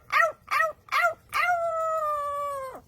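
A parrot mimics a dog: three short, bark-like yelps in quick succession, then one long, sustained howl that holds steady before cutting off, loud and close with no talking.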